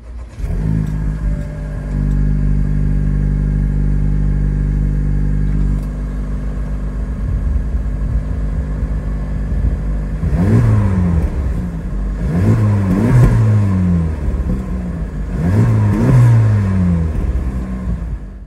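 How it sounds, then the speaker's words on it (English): A 2023 Honda Civic Type R with a triple-outlet active exhaust, largest tip in the center, idles steadily, then gives several sharp, close revs against a 4,000 RPM limiter, each rising and falling quickly. "the largest exhaust is actually in the very center. So let's go ahead and take a listen to that."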